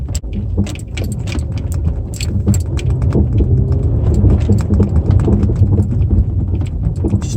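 A 2011 Hyundai Santa Fe AWD V6 accelerates off-road over muddy ground, its engine a loud, steady low rumble inside the cabin with rattles and clicks on top as the SUV bumps along.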